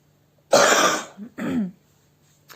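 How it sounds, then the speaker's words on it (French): A person coughs twice nearby, a harsh first cough followed by a shorter one, then a faint sound trails off at the end. "j'ai fait que de tousser pendant cette vidéo"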